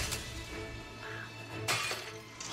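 A loud crash of something smashing in a busy MasterChef kitchen, with a sharp shattering burst partway through over steady background bustle.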